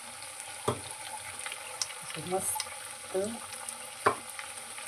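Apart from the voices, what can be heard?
sabudana vada frying in oil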